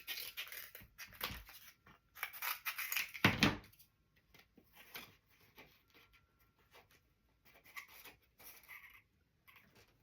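Scissors or a craft knife trimming material to fit inside a fake popcorn cup, with bursts of snipping, scraping and rustling near the start and middle, then quieter intermittent handling noises.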